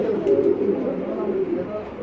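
Pouter pigeons cooing at a pigeon seller's, a soft continuous low throaty coo close by, with people talking over it.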